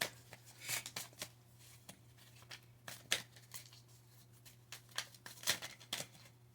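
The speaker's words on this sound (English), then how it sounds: "let's keep shuffling" Cards being shuffled in quick riffling bursts, crisp papery flutters repeating irregularly over a low steady hum.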